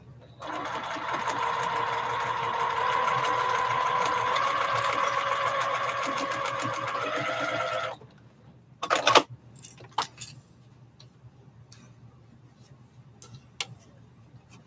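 A sewing machine stitches a quilt block in one steady, loud, continuous whir for several seconds, then stops, leaving a few clicks and handling knocks of fabric and tools.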